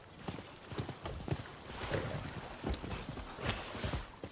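Hooves of a horse in Rise of the Ronin clop along in a steady walking-to-trotting rhythm, near and moderately loud, with a faint snort among the footfalls.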